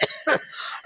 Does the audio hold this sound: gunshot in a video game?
no